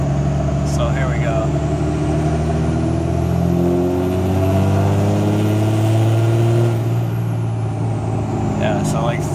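A Cummins diesel truck engine with stock wastegate settings runs loud and steady, building boost as its low drone climbs in pitch, with a faint hiss of air near the start and end.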